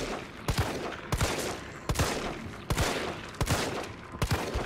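Gunfire from a handgun in Resident Evil 3 shooting at a zombie: six loud, sharp shots spaced roughly evenly about every three quarters of a second over steady game ambience, with no talking.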